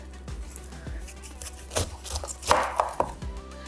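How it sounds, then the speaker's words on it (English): A knife chops through a pineapple in a string of separate, irregular thuds, close and fairly crisp, with no talking. "let's go ahead and chop the pineapple"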